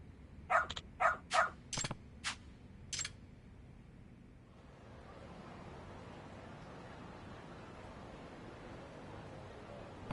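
Dog barking in the Lost Judgment video game, a quick series of about six sharp barks in the first few seconds, followed by a low steady background ambience.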